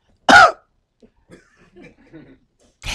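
A voice makes a single loud, close imitated cough, followed by quiet murmured sounds and the start of another burst at the very end.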